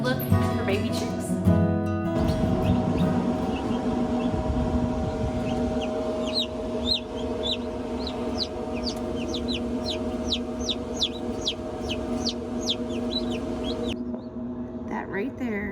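Tiny newly hatched chicks peep in a hatchery, their quick high chirps repeating steadily over a constant loud machine hum from the hatcher.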